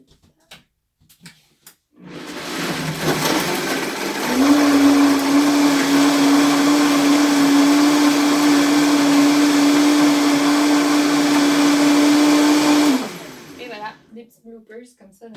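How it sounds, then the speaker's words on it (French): A kitchen blender runs at full speed mixing homemade pumpkin seed milk with a pinch of sea salt, a loud steady whir that starts abruptly, rises in pitch, holds for about ten seconds, then cuts off. "Ah, je vais brasser."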